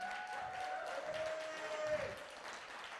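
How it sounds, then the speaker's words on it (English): Church congregation applauding together, a steady wash of clapping under a voice speaking over it, with a sustained tone running behind. "Come on, let's give the Lord a good hand."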